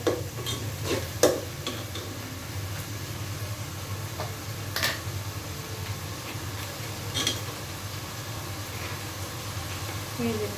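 Spices sautéing in a pan with chili paste for a bean, potato and fish curry, a steady bright sizzle with occasional stirring scrapes and clinks throughout, close and continuous.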